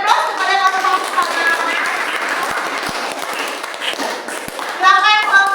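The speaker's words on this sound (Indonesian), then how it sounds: "Oke, kita berikan aplaus kepada kakak-kakak" Students in a classroom clap for a group after a physics lesson, a loud continuous round of applause lasting several seconds, mixed with children's voices chattering over it.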